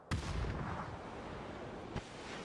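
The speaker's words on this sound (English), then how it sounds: "He throws the nade." A grenade explodes in a competitive video game match, a sharp loud blast with a rumbling decay, followed by a second shorter impact about two seconds later.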